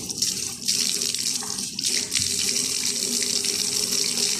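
Tap water runs steadily into a kitchen sink, a continuous hissing splash that holds close and even throughout, with no talking.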